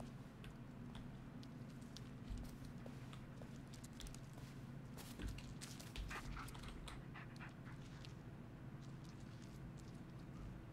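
A dog panting and whimpering in the horror video game Blair Witch, steady and fairly close over a low droning ambience, with soft footsteps and no clear barks.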